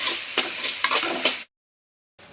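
Tomatoes and onions sauté in a pan with turmeric and salt, giving a steady close frying sizzle with a few stirring scrapes before cutting to silence and briefly resuming.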